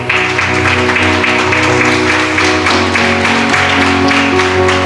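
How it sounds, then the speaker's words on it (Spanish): A church congregation applauding during a Spanish-language sermon, clapping blended with sustained music and tones, loud and continuous without a break. "¿Qué tal si levantas un aplauso al Señor?"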